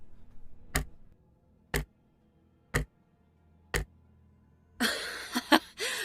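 Four evenly spaced sharp ticks sound about a second apart against near silence, then a voice makes brief laughing and chuckling noises at the end.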